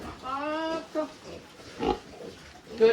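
Pigs and piglets on a farm give high squeals and grunts, close and lively, mixed with people talking nearby.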